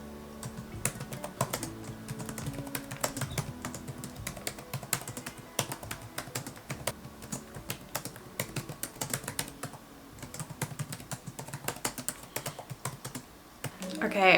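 Rapid, steady clatter of keys typed on a computer keyboard during a writing session, close and continuous with brief pauses.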